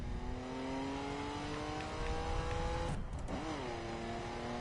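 A car on a shakedown run, its sideways-mounted muffler droning steadily as the engine holds and then rises in pitch, with a brief dip and recovery near the end.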